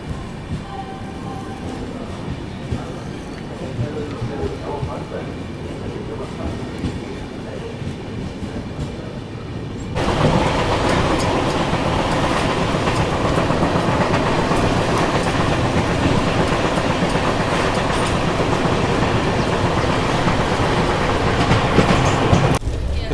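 LTT Mumbai Chennai Express train running on the tracks, a steady rumbling roar with rattling clickety-clack that suddenly grows louder and brighter partway through, continuous and close.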